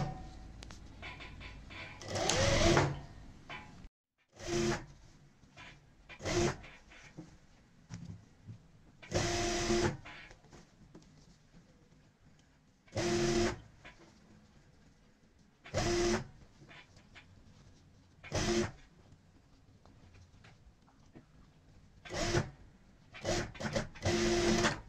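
Sewing machine stitching the collar onto a kurti whirs in short bursts, about nine separate runs of rapid stitching broken by quiet pauses while the fabric is adjusted.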